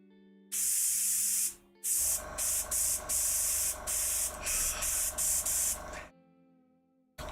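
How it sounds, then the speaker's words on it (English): An airbrush sprays paint in bursts of hiss, one long opening spray then a run of short sputtering pulses, the slightly clogged nozzle giving uneven starts and stops, close and loud with no talk. "Apparently my airbrush was a little bit more clogged than I thought."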